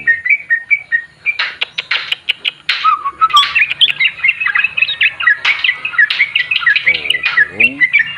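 A yellow-vented bulbul held in the hand sings close by, a busy run of bright chirps, warbles and whistled notes that keeps going without a break.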